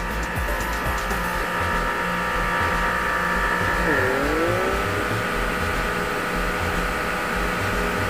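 Steady, loud electric suction whine from a CKEYIN pore vacuum blackhead remover running continuously, with a brief dip in pitch midway, as someone talks over it.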